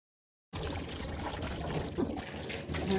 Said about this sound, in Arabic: هنحط لها شويه ميه ننقعها فيها